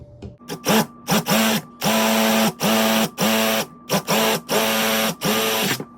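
A drill boring holes into a coconut shell for a homemade kalimba, loud and close, running in repeated bursts of about half a second with brief pauses, its tone dipping as the bit bites.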